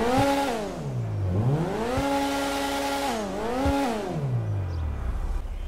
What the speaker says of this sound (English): I want you to actually listen to the sound of the car and just enjoy it with me.